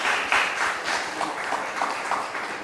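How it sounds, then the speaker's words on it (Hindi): Audience applause for two speakers at a plenary session of a Nexus conference: a steady wash of many hands clapping together, fairly close and sustained for the whole stretch, with no voices over it. "हमारे दोनों वक्ताओं के नाम से जरा एक बार जोर से तालियां बजाइए।"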